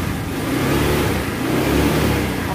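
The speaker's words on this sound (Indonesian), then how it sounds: "Lalu kita starter nih, coba starter ya, coba starter nih, starter. Oke, nyala ya." A Honda Vario 110 scooter runs just after starting, its engine giving a steady nearby whirring drone with slight rises in revs throughout.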